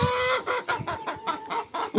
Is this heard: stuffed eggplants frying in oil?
no